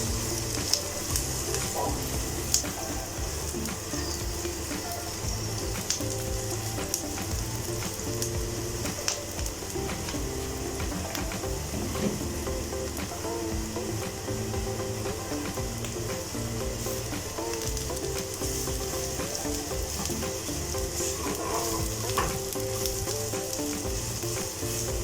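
Marinated okra (bhindi) coated in spiced batter fries in hot oil in a pan, a steady, dense crackling sizzle that runs unbroken throughout at close range with no talking.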